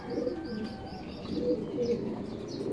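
Breeder racing pigeons coo at feeding time, soft repeated throaty coos overlapping near and clear, with a few faint chirps among them.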